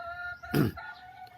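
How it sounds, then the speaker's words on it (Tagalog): A tethered rooster in a rural Philippine backyard gives a single short, loud crow-like call at close range against a faint background. "Tulad nito, itong nakataling itong tandang na ito."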